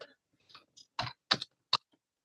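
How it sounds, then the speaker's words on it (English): A handful of separate keystrokes tapped on a computer keyboard while text is typed into a PDF, a few soft clicks followed by three sharper, louder taps, close by and with no voices. "I'll type in"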